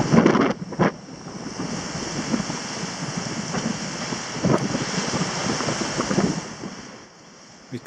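Sea waves rush and slap against a sailing yacht running at seven to eight knots on the open ocean, a 15 to 20 knot beam wind roaring steadily across the microphone, with louder surges early and midway.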